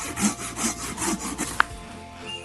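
Nordic pocket saw cutting through hardwood with about six rhythmic push-pull strokes, close and fairly loud, followed by a sharp knock and quieter rubbing as the cut slows.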